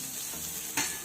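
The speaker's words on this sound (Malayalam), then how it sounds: "തേങ്ങയും കറിവേപ്പിലയും ഇട്ട് നന്നായിട്ടൊന്ന് മൂപ്പിച്ച്" Grated coconut and curry leaves frying in a pan, a steady close hiss with a brief louder crackle burst near the end.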